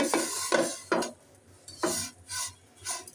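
Lachha semai vermicelli frying in a pan over low-medium heat is stirred, giving a series of close, distinct scraping and rustling strokes separated by short pauses.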